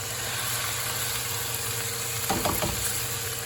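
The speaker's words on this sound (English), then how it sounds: "So when you add the onions, you're gonna start the frying process." Steady sizzle of black-eyed peas and onions frying in a pan, a constant hiss with a brief scrape of stirring near the end, no voices.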